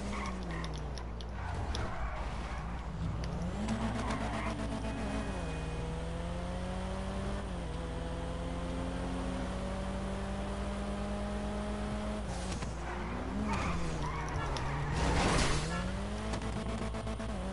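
Race car engines drone and rev during a multi-lap race in GTA 5, rising and falling in pitch as the cars shift and accelerate, with a steady ticking underneath and a louder burst near the end.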